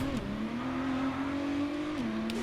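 F1 cars in the F1 22 racing game launching off the start at the Abu Dhabi Grand Prix, a steady, loud engine drone that holds a pitch, dips, then climbs again as the cars accelerate.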